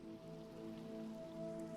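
Steady rain falls in a blocky multiplayer survival game world, a soft continuous patter on surfaces under a faint tonal hum from the game's ambience.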